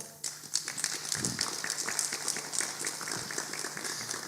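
Audience applause at a men's fellowship gathering on parenting: a dense, steady wash of many hands clapping that begins abruptly and holds at an even level, with a few brief murmurs mixed in.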